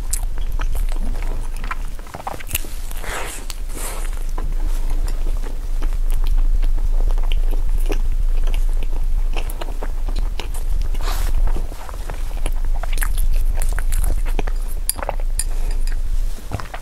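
Scallion mochi rolls being eaten up close, with soft bites, chewing and occasional clinks of cutlery or dishes repeating steadily over a low background hum.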